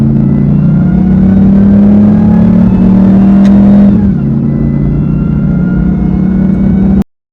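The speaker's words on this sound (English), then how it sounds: "With this truck, you're hearing the supercharger pretty much everywhere you're driving." A RAM TRX pickup's supercharged engine whines and drones steadily and loudly while driving, with a brief dip in pitch partway through before the sound cuts off abruptly at the end.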